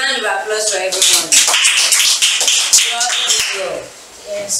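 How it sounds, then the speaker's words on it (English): A classroom of children claps in a short, uneven burst of close, sharp hand claps, mixed with talking and shuffling. "A round of applause for everyone."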